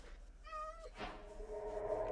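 A cat meows in Minecraft, giving a brief tonal call followed by a second, fainter one over a steady low game hum.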